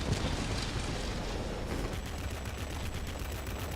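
An explosion in the World of Warplanes flight game, a loud, dense, rumbling blast and roar that fills the clip, with crackling bursts like gunfire mixed in.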